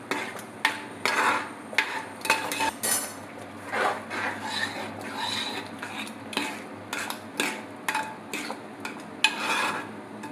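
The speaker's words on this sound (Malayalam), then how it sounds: "ഒരു അടുപ്പിൽ അരിയും കൂടെ വറക്കുന്നുണ്ടേ." Rice dry-roasting in a pan is stirred with a utensil, making repeated scraping strokes and sharp metallic clinks in a steady, uneven rhythm. Nearby and fairly quiet, with no talking.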